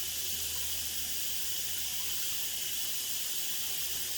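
Water pours steadily into the bottom of a pot, a continuous faint hissing rush of filling liquid with no talking.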